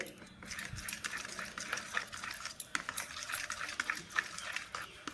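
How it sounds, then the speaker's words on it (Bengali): Batter is being mixed with baking soda in a bowl, making quick, irregular, wet whisking and scraping strokes, quiet and close, with a person speaking over them. "আমি বেকিং সোডা আমি হাফটা চামচ দিয়ে দিচ্ছি তো মিক্স করে নেব ভালো করে"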